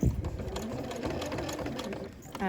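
A sewing machine stitches a hood onto a hoodie, running slowly at a steady, close, mechanical whirr that continues through the clip, with a brief pause near the end.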